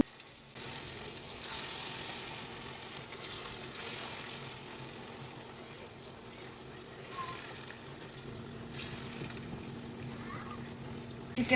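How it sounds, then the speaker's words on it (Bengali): Oil sizzles and spatters steadily as pieces of chicken fry, a continuous crackling hiss with occasional louder pops and stirring. "ফ্রাইগুলো ভাজা হচ্ছে"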